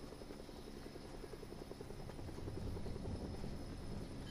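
A video game helicopter's rotor thumps rhythmically and steadily, growing slightly louder as it nears, with no talk over it.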